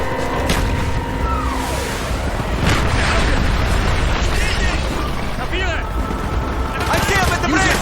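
Mortar fire and explosions in the shooter game Call of Duty: Black Ops come as loud repeated booms and gunfire bursts over a dense battle din, with shouted voices mixed in throughout.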